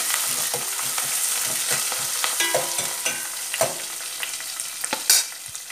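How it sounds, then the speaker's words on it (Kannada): Chopped onions fry in a pan for a rajma dish, a steady close sizzle broken by repeated scraping stirs of a spoon against the pan, with no voices. "ಈರುಳ್ಳಿ ಪೌಡ್ರು ಫ್ರೈ ಮಾಡ್ತದೆ"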